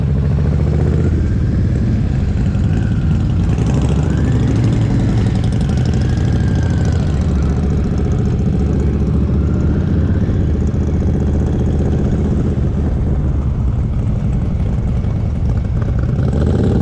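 A Honda Fury motorcycle engine runs steadily and loudly up close, a continuous throaty drone with slight rises in pitch, no voices over it.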